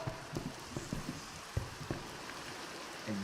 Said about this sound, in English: The rain just never stops.